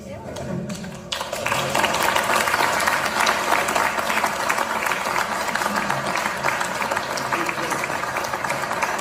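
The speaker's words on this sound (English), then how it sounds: "Oh yes, clap, clap, clap." Dense clapping from a crowd after a brief quieter opening, continuing steadily and loudly under speech.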